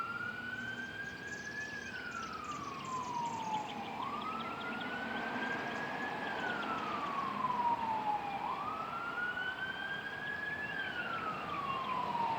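A wailing emergency siren rises and falls in long, steady sweeps, fairly close and loud, with traffic rumble underneath.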